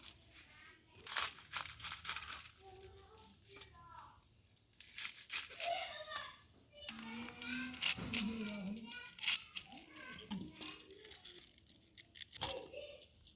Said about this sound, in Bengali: এখন আমি পাতাকপিটা কেটে নিব।